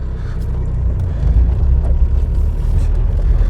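A Tata Safari reversing across a rough field to disengage its front hubs, a steady low engine rumble that swells slightly and holds close and loud throughout.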